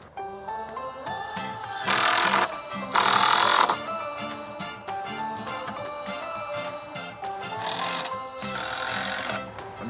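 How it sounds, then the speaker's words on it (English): Power drill driving a screw into chicken coop run framing, a close whirring burst with short bursts of drilling over workshop clatter and knocks. "just gonna put a screw in this one"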